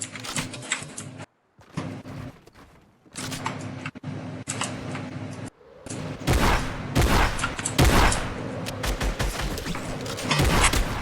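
Video game gunfire from a PC versus mobile build battle shooter, loud bursts of shots and rapid volleys coming in clusters with brief gaps and a short silent pause, over a steady background game hum.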